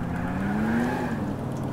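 Motorcycle driven in GTA IV, its engine humming as a continuous close drone with the pitch climbing briefly as it revs, no talking.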